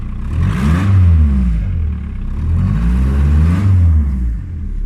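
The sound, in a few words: car engine revving with exhaust leak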